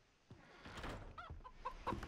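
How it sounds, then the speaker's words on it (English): A chicken clucks in short, irregular bursts in the video game Far Cry 3, close and fairly quiet against a low background hush. "Chicken."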